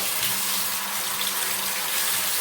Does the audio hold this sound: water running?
yes